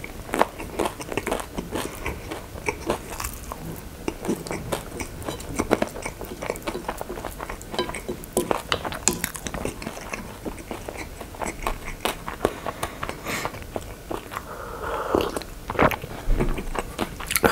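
Loud, close crunching of fresh-baked crusty bread being bitten and chewed, with crackly snaps repeating steadily and no talking.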